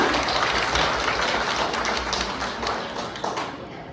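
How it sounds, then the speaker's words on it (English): Audience applause at an awards gala in a banquet palace, a dense wash of clapping hands that starts loud and gradually thins toward the end, with a few sharper claps standing out. "So please give a round of applause to Romisha."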